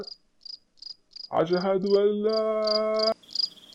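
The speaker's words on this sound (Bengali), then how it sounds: "ঝিঝি পোকার ডাক শোনা যাচ্ছে" Crickets chirp at night in a steady run of short, evenly spaced pulses, clear and close, while a man's long sung call rises over them midway before the chirping continues alone.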